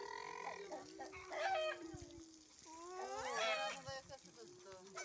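A garden rooster crowing twice at close range, each crow a long rising and falling call, with hens clucking between and people talking quietly.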